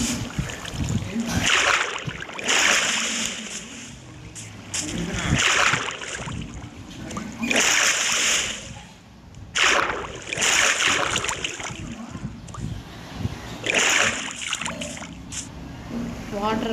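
Water splashes and sloshes in a Minecraft survival game while building a base near an infinite lava source, coming in repeated bursts with quieter gaps between them.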